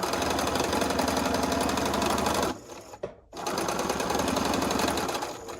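Sewing machine stitching two quilt half square triangles together, a loud, close, steady mechanical whir that stops briefly midway, then resumes at the same fast pace.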